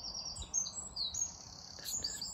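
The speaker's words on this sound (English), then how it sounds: "There's birds." Small birds chirp in woodland along the Lisconnan country road near Dervock, North Antrim, with quick high tweets and short trills at moderate distance over a quiet outdoor hush.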